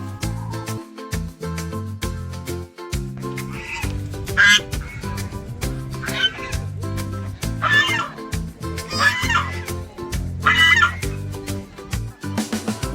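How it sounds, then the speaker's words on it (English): Ducks at Ghora Katora lake in Rajgir quack repeatedly in loud, close bursts over a busy background of music-like tones and ambient noise, several birds calling in irregular overlapping runs. "Here, ducks can be found."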